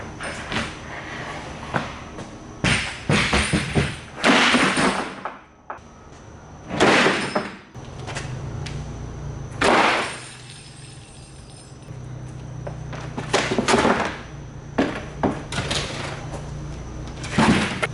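A broken solid wood door that has split in half is handled and moved around in a lot. Repeated loud knocks, scrapes and bangs come up close, with brief quieter gaps between them.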